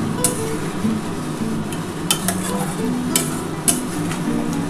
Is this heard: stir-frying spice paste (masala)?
yes